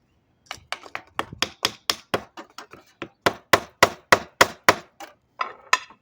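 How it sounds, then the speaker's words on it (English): Repeated hammer blows on a repaired wooden bird feeder, about twenty sharp close knocks in a quick uneven rhythm with a short pause midway and no talk. "So now hammer it in."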